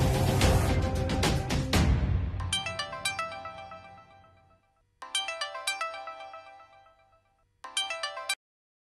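A mobile phone ringtone plays a bright repeating melodic phrase in three bursts separated by short silences, following a louder musical sting at the start, with no talking.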